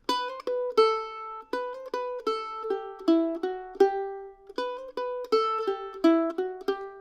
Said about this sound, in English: And then we're going to do this little hammer-on triplet.